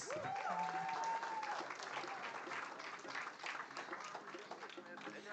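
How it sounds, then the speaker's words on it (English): Audience applause at a Caribbean youth investment forum, a steady wash of crowd clapping that carries on at moderate level, with a brief tonal sweep near the start. "keep the applause going for Mr. Omar Birch Smith"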